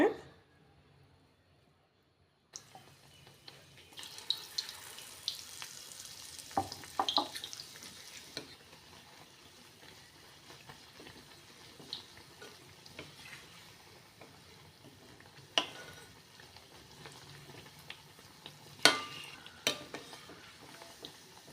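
Egg and papad bajji fritters deep-fry in hot oil with a steady crackling sizzle, broken by occasional clinks and stirring sounds from the pan, with no one talking.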